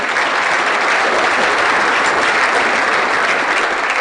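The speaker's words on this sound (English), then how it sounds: "Let's give them a round of applause" Audience applauding at a business hall of fame awards ceremony: dense, steady clapping from a large crowd, sustained evenly for a few seconds.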